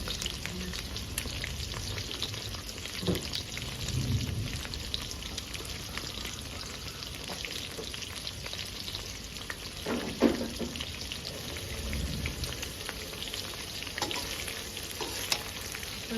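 Batter-coated shrimp heads deep-fry in hot oil in a wok, with a steady close crackling sizzle and occasional louder pops and bursts of bubbling.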